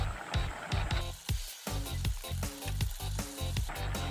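Two bay leaves crackle and sizzle in hot oil for a vegetarian paneer biryani, a loud continuous frying hiss with rhythmic bursts of popping and stirring, no voices.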